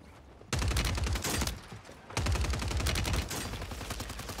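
Gunfire in Call of Duty on Rebirth Island, heard as two loud bursts of rapid automatic shots, each lasting about a second, separated by a short pause and trailing into quieter echoing fire.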